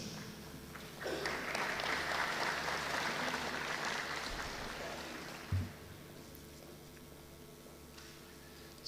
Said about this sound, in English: So you must give him a round of applause